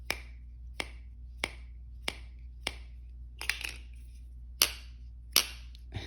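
The blade of a Cold Steel Bush Ranger folding knife snapping shut repeatedly, about nine sharp, crisp clicks spaced roughly half a second to a second apart, close and distinct over quiet background hum, no speech.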